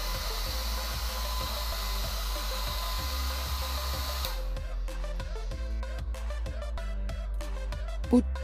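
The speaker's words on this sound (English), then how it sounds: "Place the board before a dryer and make it dry" A steady, loud blowing roar of a hair dryer drying a printed circuit board runs throughout, with rhythmic low thumps and clicks layered over it near the end.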